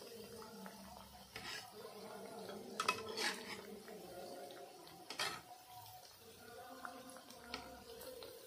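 Rice-flour pitha frying in hot jaggery-sweetened oil in a pan, flipped with a utensil: a few sharp metallic scrapes and clinks over a low, steady frying hiss, fairly close and without talk.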